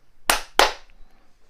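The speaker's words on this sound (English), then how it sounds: "John, just clap a minute" Two sharp hand claps about a third of a second apart, close and fairly loud, then quiet room tone.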